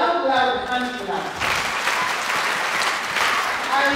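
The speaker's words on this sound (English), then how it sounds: "Can we give God a loud, loud hand clap?" A church congregation claps hands loudly and steadily in a dense, continuous burst, while a voice carries on speaking over the clapping for the first second.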